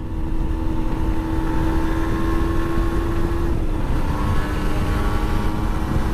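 A 125cc motorcycle cruises at about 70 km/h, its engine holding a steady, loud drone with a faint tonal hum and a continuous wash of road and wind noise.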